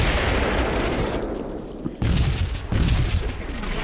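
Heavy, sustained artillery barrage in the war game Combat Mission: Shock Force 2: a dense, continuous roar of distant detonations, with sharper, louder impacts bursting through partway along.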